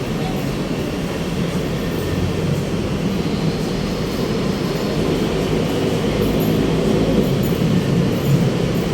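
A loud, steady rumbling roar of an MRT rail train moving close by in Mandaluyong, Philippines, with a continuous mechanical drone and faint rattling throughout.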